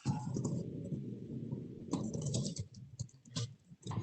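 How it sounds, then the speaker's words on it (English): Typing on a computer keyboard during an online council meeting, a close, busy run of key clicks and taps at an uneven rhythm with brief pauses, no voices. "So I realized I was typing this and I could just unmute myself."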